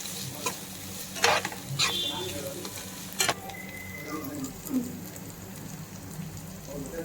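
Street-style gobi manchurian being stirred and mixed in a pan, with a close, continuous frying sizzle broken by several sharp scrapes and clanks of a utensil against the pan, and no talking.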